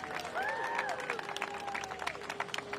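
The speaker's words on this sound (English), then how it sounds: "let's give our teachers, staff, and administration here a big round of applause" A crowd at an outdoor school-year opening event with the mayor claps for teachers, staff and administration. The applause is fairly quiet and somewhat scattered, with a few whistle-like tones over it.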